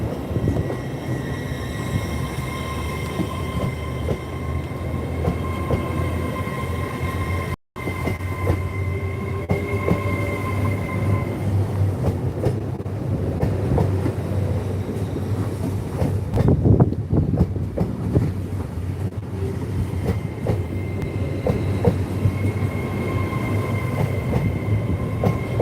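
A passenger train pulls out of Peterborough station bound for Edinburgh, producing a sustained rumble and rolling rail noise with some metallic wheel sounds and wind buffeting the microphone, steady and fairly loud for the whole stretch, without talking.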